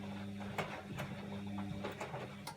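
A noisy Bosch WAE24366 washing machine with a fault, spinning a carpet inside its drum: a steady mechanical drone and hum with a few soft knocks and thuds at irregular moments.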